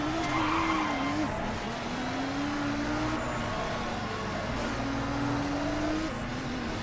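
Race cars in GRID: Race Driver run a four-lap race, with engines droning and pitch rising and falling as gears shift, and tires squealing intermittently over a constant racing roar.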